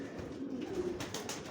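Racing pigeons of Jansen and Van Loos lines coo softly in a breeding loft with nest boxes, a brief low murmur among light indoor rustling.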